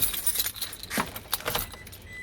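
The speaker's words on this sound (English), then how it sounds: "let me grab my car keys here" A set of car keys for a 2011 Toyota Hilux jangles close by in a short burst of bright metallic clinks and rattles lasting a couple of seconds.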